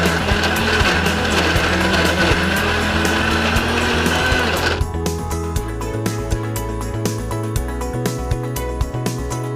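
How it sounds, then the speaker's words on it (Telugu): A mixer grinder whirs loudly as it grinds jaggery for sesame-peanut laddus, a continuous motor drone that shifts pitch and texture midway as the load changes. "నెక్స్ట్ బెల్లం కూడా వేసి మిక్సీ పట్టాలి"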